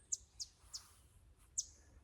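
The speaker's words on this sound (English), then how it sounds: "Birds." A few birds chirping outdoors near a camp, four brief high tweets at irregular intervals, faint and somewhat distant over quiet background.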